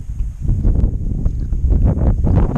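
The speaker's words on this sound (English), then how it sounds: "it's breezy out here today" Steady wind buffets the microphone outdoors on a breezy day of flounder and red drum fishing, a continuous rumbling gust noise with no talk.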